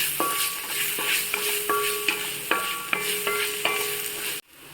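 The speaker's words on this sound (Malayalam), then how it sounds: "എന്നിട്ട് നന്നായിട്ടൊന്ന് ഇളക്കുക" A spoon scrapes and stirs chicken with green chillies and turmeric in a sizzling pan, scrapes landing in a steady rhythm of about seven strokes over continuous frying noise before it cuts off abruptly.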